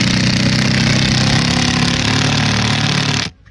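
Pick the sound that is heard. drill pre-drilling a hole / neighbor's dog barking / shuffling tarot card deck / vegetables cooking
drill pre-drilling a hole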